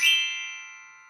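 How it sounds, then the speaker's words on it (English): Metal xylophone bells struck once in a home music lesson, a single bright ringing tone with a quick attack that decays slowly, close and alone. "What I do have at home for percussion is a xylophone."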